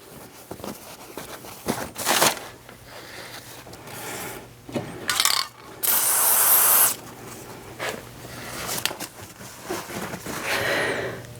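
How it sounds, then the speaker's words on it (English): Y axis guard being slid forward on a Next Wave Shark HD5 CNC machine, with scraping, rubbing and sliding bursts, spray-like hisses and knocks coming in uneven bursts at close range. "You just slide the guard forward."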